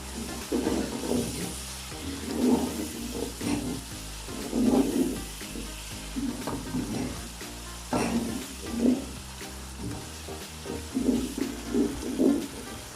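Steady sizzling of salt, turmeric and red chillies tempering in a hot pan, with irregular scraping and stirring bursts every second or two, close by, no voices.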